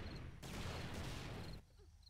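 An explosion in the survival video game 7 Days to Die gives a faint, dense burst of rumbling noise lasting about a second before falling back to quiet background.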